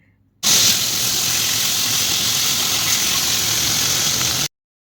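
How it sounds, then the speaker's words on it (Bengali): Hilsa fish slid into hot oil in a pan, a sudden loud steady hiss of spitting oil that starts abruptly, holds evenly for about four seconds and then cuts off, close with no voices. "তেলটা ভালো করে গরম হয়ে গেলে একে একে ইলিশ মাছগুলো সেই তেলের মধ্যে টপার টপ ছেড়ে দিতে হবে"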